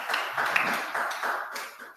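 Audience clapping follows a spiritual talk, a moderate, steady patter of many hands heard from a little distance for about two seconds, slightly uneven in level.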